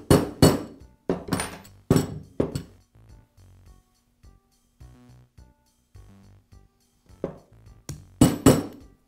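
A socket is tapped down over the nose piece retainer on a Bostitch nailer, making sharp metallic taps in short clustered bursts with quiet gaps between them, close and alone.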